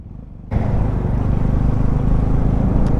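A Bristol BR400i cafe racer motorcycle climbs onto the Skyway expressway, its engine droning loud and steady with dense low-end rumble and wind noise after a sudden onset.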